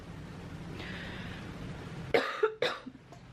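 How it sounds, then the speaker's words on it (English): A few sharp coughs come up close near the end, following a stretch of low, steady background noise. "Let me cough this up."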